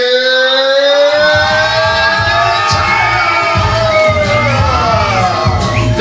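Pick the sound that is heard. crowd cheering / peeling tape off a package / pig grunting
crowd cheering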